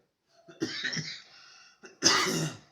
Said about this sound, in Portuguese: A tosse hoje chegou com mais de 15 minutos.